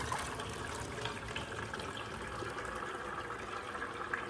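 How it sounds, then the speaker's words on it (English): Apricot brandy poured through a flour-towel-lined basket strainer, a soft continuous splashing trickle of liquid running steadily, fairly faint and unbroken. "And as you can hear, it's going right through to the bottom of the basket."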